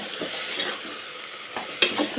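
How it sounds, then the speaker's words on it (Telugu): Onions fry in a pan for a tomato curry, soft continuous sizzling with a few clinks and scrapes from a stirring spoon. "ఉల్లిపాయలు మగ్గేదాకా చూద్దాం"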